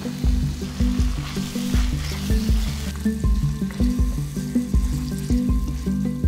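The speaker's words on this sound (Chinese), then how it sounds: "快速过油煎一下。" Pork liver slides into hot oil in a wok for a quick fry, giving a steady, close sizzle that holds for several seconds under a melodic backing track.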